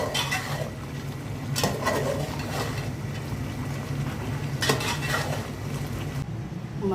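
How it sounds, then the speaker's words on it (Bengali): Beef curry being stirred in a pot at home, with repeated scraping and clinks of a spoon against metal over a steady low simmer and sizzle, with a couple of sharper knocks. "মাংসটা নেড়ে চেড়ে দিচ্ছি।"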